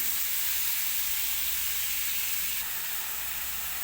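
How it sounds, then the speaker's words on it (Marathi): Finely chopped onion and green chili frying in hot oil with cumin seeds for rava upma: a steady, close, broadband sizzle hissing throughout, no talk. "जिरं चांगलं तडतडलं की कांदा मिरची टाकून घेते बारीक शिरलेला कांदा"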